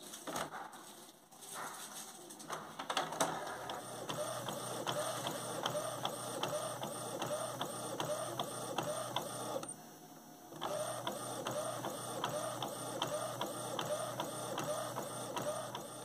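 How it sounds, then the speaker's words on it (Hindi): A sublimation printer runs a Spotify plaque print with a steady, quiet mechanical chatter of the print head moving back and forth, pausing briefly partway through and then resuming, with no voices. "इसको जो है यहाँ से इजिली प्रिंट दे देना है ये देखिए इस तरीके से हम लोगों का प्रिंटिंग निकलना स्टार्ट हो जाता है"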